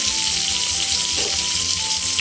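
Onion, tomato and garlic sizzling in hot oil for fried rice, a steady loud crackling hiss that stays unbroken from start to finish.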